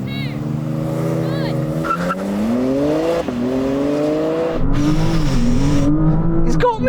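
An Audi RS5 and a BMW M3 launching in a drag race, engines roaring and rising in pitch through the gears with a brief tire squeal, loud and close, with people talking over it.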